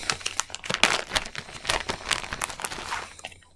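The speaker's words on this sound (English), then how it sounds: "Sorry, crinkling plastic." Plastic packaging crinkles and crackles in irregular bursts close by while fabric for a cross-stitch project is unpacked, fairly quiet with no talk.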